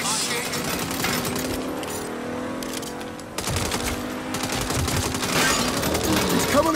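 Rapid bursts of gunfire crackle and rattle in the Saints Row video game, a dense fusillade with a brief lull before firing resumes, while voices shout over it.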